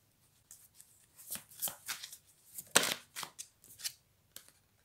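Tarot cards are shuffled and drawn in a series of quiet, quick papery riffles and flicks, with a sharper snap near the middle, and no voices.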